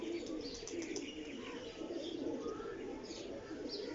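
Pigeons coo softly at a rooftop loft around 3 in the afternoon, a low murmuring burble under a steady wash of outdoor ambience, with faint chirps drifting in above.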